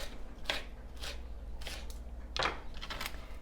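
A knife cuts an aloe vera leaf into half-inch pieces, giving a few separate, crisp slicing strokes at irregular intervals, close and moderately loud over a low steady hum.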